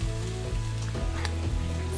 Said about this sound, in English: Saute all of that together too.